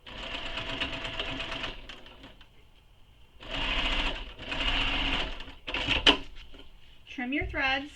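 Sewing machine backstitching a bag seam, several short runs of close needle whirring with pauses between, forward and reverse bursts, and brief talk at the end.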